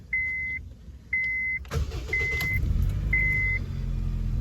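A 2008 Honda Fit's ignition is switched on: four evenly spaced dashboard chimes ring out, then the engine cranks and settles into a steady idle, close by.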